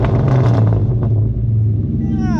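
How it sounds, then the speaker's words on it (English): A Ford Mustang's loud exhaust rumbles close by, a deep steady burble that swells briefly as if revving, then settles into a rough idle for a couple of seconds with no talk over it. "Here, Steph, I have to listen to the exhaust. It's too loud."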